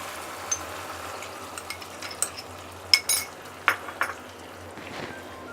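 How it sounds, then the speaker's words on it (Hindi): Corn starch being stirred into a pan of sauce for chicken Manchurian, heard as light scraping and metallic clinks of a spoon at irregular intervals over a low continuous background hiss. "और इसे हमें लगातार चलाते रहना है।"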